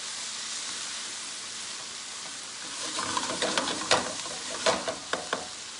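Beet greens stirred with olive or coconut oil in a hot pan: a steady sizzle builds, then scraping stir strokes come in a few sharp bursts near the end, with no talking.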